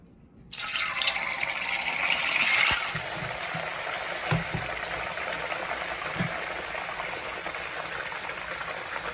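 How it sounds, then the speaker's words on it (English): Tofu frying slowly in hot oil, a steady dense sizzle that starts suddenly after a brief quiet, swells for a couple of seconds, then settles into a continuous crackling hiss with a few soft knocks. "this tofu is going to fry slowly"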